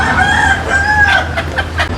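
Native country chickens cluck and crow together, a rooster's drawn-out crow rising over steady clucking from a close flock of desi hens, with no talk.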